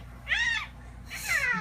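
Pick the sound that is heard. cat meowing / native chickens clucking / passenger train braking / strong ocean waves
cat meowing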